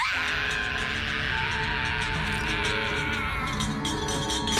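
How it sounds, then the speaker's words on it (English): A cartoon mermaid's shrill, drawn-out scream of pain rings out continuously for several seconds, high and strained, with no talking over it. "we hear the mermaid scream in pain"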